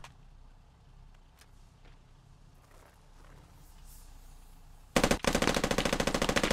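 A G3 battle rifle fires in a video game firefight, a sudden loud rapid burst of heavy shots that breaks in after a quiet stretch of distant background rumble, with no talking.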